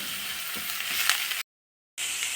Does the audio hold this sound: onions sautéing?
yes